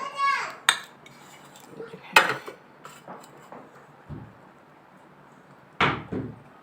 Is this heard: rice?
yes